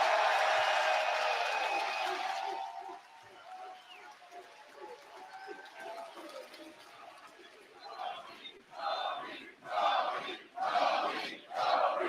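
A wrestling arena crowd at an AEW Collision show roars and cheers for Toni, a steady wall of noise that gives way to several surging bursts of cheering toward the end.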